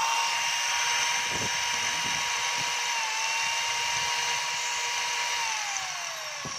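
DeWalt D21710 1/2-inch drill running with its trigger squeezed: a loud, steady motor whine held close throughout, its pitch sliding slightly as the speed shifts, with no talk.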